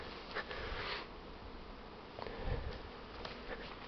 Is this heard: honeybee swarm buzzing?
yes